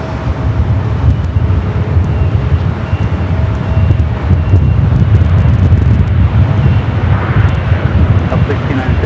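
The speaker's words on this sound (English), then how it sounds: "It's a 747-400 freighter coming in from Luxembourg." A Boeing 747-400 freighter arriving from Luxembourg at Los Angeles airport gives a loud, steady roar of jet engines mixed with heavy wind buffeting on the microphone, holding constant throughout, while a voice talks over it.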